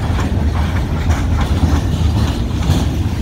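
A long freight train hauling log cars rolls past close by, with a steady rumble and rhythmic clickety-clack of wheels over rail joints.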